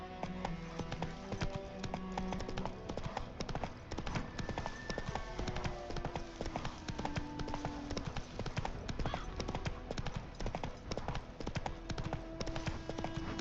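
Steady clip-clop of the horse Roach galloping in The Witcher 3, a brisk even hoof rhythm running throughout over faint game ambience.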